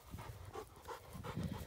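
A dog on a leash pants rhythmically in quick, close breaths against a faint background, with no talking.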